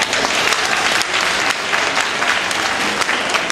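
Loud, steady applause from an audience at a Grand Flora floral event award ceremony, dense clapping sustained throughout without a break.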